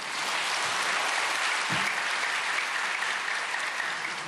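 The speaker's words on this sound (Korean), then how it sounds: "우리 다 같이 총회장님 박수로 환영해 주시겠습니다." A church congregation bursts into sustained, dense applause to welcome a speaker, loud and continuous for several seconds with no talking.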